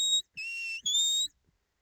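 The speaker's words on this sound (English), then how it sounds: "I'm using a pull-in whistle just to encourage him in." A shepherd blows a pull-in whistle to a working sheepdog on a stock dog trial field: three sharp, high, clear whistle blasts, the middle one sliding downward, heard alone with no talk.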